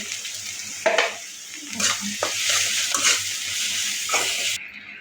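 Spice paste fries in a pan with fish and a pinch of salt, giving a steady close sizzle broken by repeated scraping stirs of a spoon against the pan.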